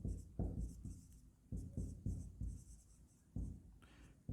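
Marker or chalk strokes on a board while an accounting journal entry for share capital is written, a run of close, scratchy bursts in an uneven rhythm with short pauses between, no talking.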